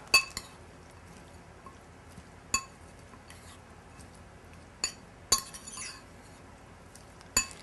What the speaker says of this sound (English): So we're just gonna mix that in with our tuna, Greek yogurt, mustard, lemon, and onion. Mix that up.